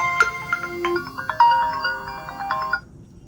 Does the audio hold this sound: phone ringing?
yes